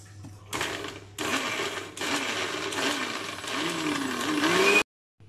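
A motorized blender whirs through mint paste in several bursts, stopping and restarting between them, loud and close, then cuts off abruptly near the end.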